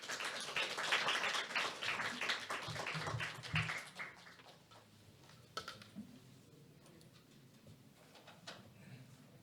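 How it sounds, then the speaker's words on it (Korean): An audience at a Korean lecture on dictionaries and their users applauds for about four seconds, a dense burst of many hands that tapers into scattered claps and room noise. "큰 박수로 맞이해 주십시오"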